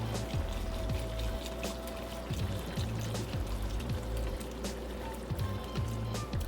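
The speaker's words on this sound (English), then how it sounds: "take that beef broth, the beef stock, and we're going to add that" Beef stock being poured into a pot of oxtail stew, a steady liquid trickle and splash running close by with faint kitchen clatter.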